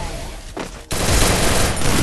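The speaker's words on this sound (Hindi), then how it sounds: "भाई उसकी शॉट गन थी है ना, पूरा सीधा मुंह के ऊपर पड़ गया उस" A loud shotgun blast from a battle-royale video game lands abruptly a second in, followed by continuous heavy game noise with no voices.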